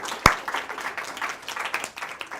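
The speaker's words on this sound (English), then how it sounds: "Let's give Spencer a round of applause because he came up with the idea." A short round of applause for Spencer in a classroom-style gathering, opening with one sharp clap and then a quick scatter of uneven claps from a small group.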